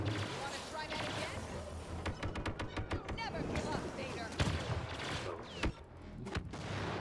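Rockets and blaster fire in the Star Wars Battlefront video game come as dense, rapid bursts of sharp shots and heavier thumping blasts, layered over continuous battle noise with voices in the mix.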